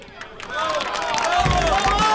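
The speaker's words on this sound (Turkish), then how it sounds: "Lütfen Palabas komiserime büyük bir alkış." Applause and clapping from a crowd swell up after a brief quieter start and stay loud and dense to the end, with chatter and shouting mixed into the noise.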